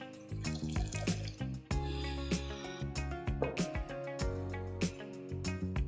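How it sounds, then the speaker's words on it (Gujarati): Water pours in an unsteady stream into a simmering Gujarati kali vegetable curry made with buttermilk, with splashes and clinks of the pot recurring over several seconds, close and fairly loud with no talk. "અને થોડું પાણી નાખીશું કે હજુ ઘટ થશે થોડું"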